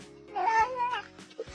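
House cat gives a drawn-out, wavering meow close up, followed by a short chirp, with no talking.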